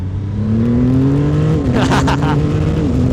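A Triumph Rocket 3 Storm R motorcycle roars under full throttle, its loud engine note rising and shifting pitch through a gear change, heard close with wind rush and a rider's voice.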